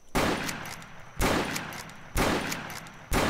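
A Winchester lever-action rifle fires in the Roblox Wild West game, four loud, sharp shots spaced roughly one second apart, each with a lingering echoing tail.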